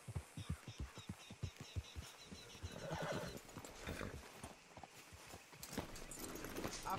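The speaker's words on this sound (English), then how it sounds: "Let's leave the horses off the road to the right here." Horses in the Red Dead Redemption 2 video game whinny and clip-clop along, a steady run of close hoof beats at the start giving way to louder neighing and snorting, with ambient outdoor game sound behind.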